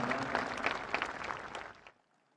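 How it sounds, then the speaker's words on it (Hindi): An audience claps at an inauguration ceremony for Seva Tirth and Kartavya Bhavan; the fairly soft applause runs steadily for about two seconds, then stops abruptly into near silence. "एक बार पुनः तालियों के उद्घोष के साथ इन पलों का अभिवादन करें।"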